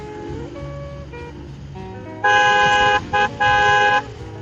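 A car horn honks on a rough road near Hemayetpur, Dhaka, during a commute: a long loud blast, a short tap, then another long blast, standing out over the steady drone of traffic.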